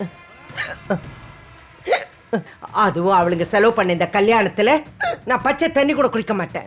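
A woman hiccups loudly several times in sharp, irregular bursts while speaking in Tamil, in a tense scene at a wedding hall.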